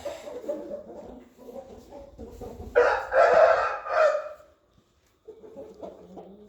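A rooster lets out one loud, close crow that rises out of softer, ongoing hen clucking and farmyard murmuring, which briefly drops to near silence before resuming.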